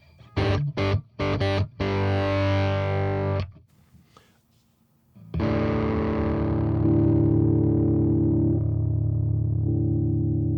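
An electric guitar plays through a sample delay plugin set to sub-millisecond delay, giving a distorted, comb-filtered tone: a few choppy chords, a sustained chord, a brief quiet gap, then a long ringing chord that slowly fades.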